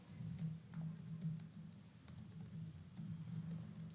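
Sparse, light clicks of a computer keyboard as someone types Java code, faint and close over a steady low hum, arriving in short uneven bursts.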